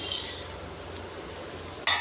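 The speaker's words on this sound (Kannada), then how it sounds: "ಫಸ್ಟು ಈ ಮಸಾಲೆನೆಲ್ಲ ಎಣ್ಣೆ ಹಾಕಿ ಸ್ವಲ್ಪ ಹೊತ್ತು ಫ್ರೈ ಮಾಡ್ಕೋಬೇಕು." Spice masala frying in oil for a Mangalore-style pineapple curry, a steady close sizzle with a utensil scraping and clinking against the pan, and a sharper clink near the end.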